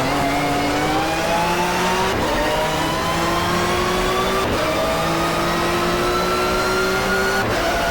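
A 1994 touring car at Donington in the GTR2 racing game revs hard and climbs through the gears, with rising engine whines dropping at each shift, loud and continuous with no talking.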